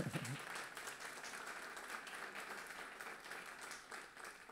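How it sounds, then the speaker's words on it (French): An audience claps continuously at a conference launch event, a steady wash of applause that is fairly faint and distant throughout. "On peut les applaudir."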